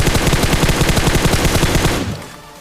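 Rapid automatic gunfire in a battle royale video game, a loud sustained burst of evenly spaced shots that cuts off near the end and leaves a faint tail.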